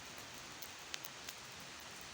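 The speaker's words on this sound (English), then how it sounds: "you can see it has started drizzling" Light rain beginning to drizzle outdoors on a farm: a faint, steady hiss of fine rain with a few scattered drop ticks, no voices.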